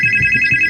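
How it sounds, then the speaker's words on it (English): A telephone rings with a steady, shrill electronic trill that pulses in a quick even rhythm. The tone is loud and close, over a faint low murmur. "Phone call."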